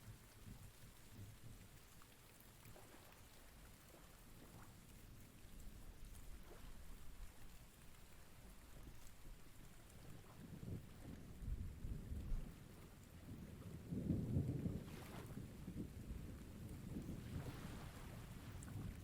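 Rain patters steadily on a surface while low thunder rumbles build and swell toward the end, all heard through a Zurich radio station broadcast, with no talking.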